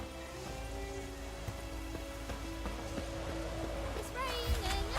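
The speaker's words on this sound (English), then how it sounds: "It's raining, it's pouring," Rain patters steadily in The Witcher 3: Wild Hunt under indistinct talk and tonal voices, with a louder rising sound near the end.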